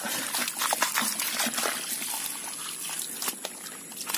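A small stream in a farm field trickles steadily, with close, continuous bubbling water and small splashes.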